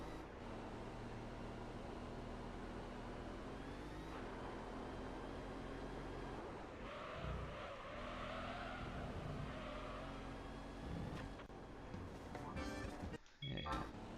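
A race car engine in Gran Turismo 3 drones steadily throughout, rising and falling in pitch as it revs and shifts, fairly faint and continuous, with a brief disturbance near the end.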